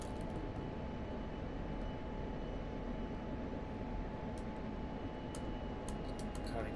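A jet aircraft engine in the DCS World flight simulator drones steadily during a descent with the throttle eased back, a constant loud broadband roar with a faint high whine and no talk.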